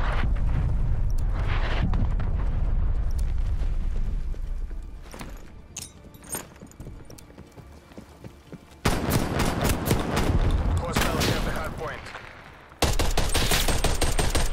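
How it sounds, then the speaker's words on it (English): Heavy artillery strikes land in Call of Duty: Cold War amid rattling gunfire, loud rumbling blasts and crackling bursts coming in waves, with a sharp impact near the end. "Hostile artillery targeting active. Artillery inbound."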